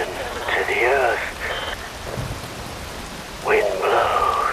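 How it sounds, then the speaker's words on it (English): Rain falls in Metal Gear Rising: Revengeance as steady broadband hiss beneath a spoken voice, with the voice carrying over it for most of the stretch. "Rain falls."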